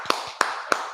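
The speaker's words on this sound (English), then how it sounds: "Hey, clap. Yeah, clap." Three sharp, evenly spaced hand claps about a third of a second apart during a live NFL draft mock stream, close and fairly quiet, with no talk over them.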